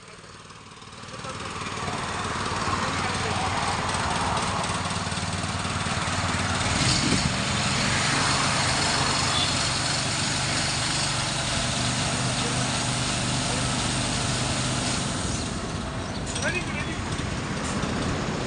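A motorized orchard sprayer runs at full pressure in a sweet lime and orange orchard, a steady loud engine drone with hissing spray that holds throughout while someone talks over it.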